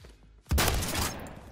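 A shotgun blast in the Roblox game Phantom Forces hits suddenly after a quiet moment, one loud close burst with a rattling tail that fades over about a second.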